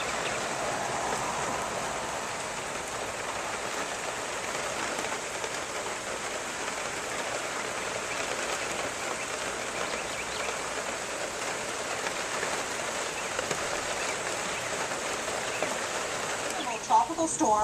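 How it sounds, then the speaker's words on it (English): Rain from tropical storm Nicole in Okeechobee, Florida keeps up a steady, soft patter and hiss on surfaces, even throughout, with a brief louder knock near the end. "just gray skies and a lot of rain."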